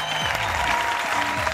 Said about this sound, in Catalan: un fort, veritable, i que ressoni l'aplaudiment aquí, al costat de la Torre Agbar, al The Hub, a Barcelona